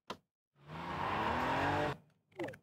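A car in The Sims Bustin' Out video game makes a loud handbrake skid: a sharp click, then about one and a half seconds of screeching tire noise, followed by a brief trailing sound.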